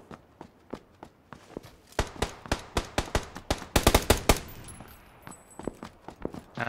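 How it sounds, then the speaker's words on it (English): Gunfire in PlayerUnknown's Battlegrounds on the Miramar map, a rapid string of sharp close shots striking the player, bursts irregular then clustering into a dense volley before tapering to scattered single cracks. "I'm getting shot."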